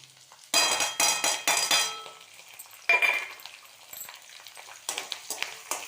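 Green chili, ginger and curry leaves drop into hot oil with dals, setting off several loud bursts of crackling sizzle in quick succession, then a quieter spell with clinks of a spoon against the pan before more sharp spatters.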